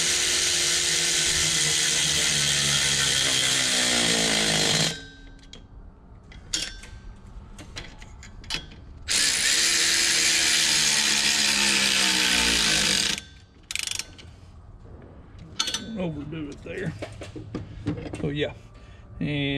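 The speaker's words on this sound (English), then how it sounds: "So I'll go back and I'll tighten these down" A power tool, likely a cordless ratchet, tightens clamps during a Banks Monster-Ram intake install on a 6.7L Dodge Cummins diesel, running in two long loud whirring bursts with shorter buzzes, near, with a person talking in between.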